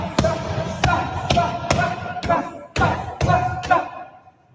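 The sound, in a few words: heavy boxing punches thudding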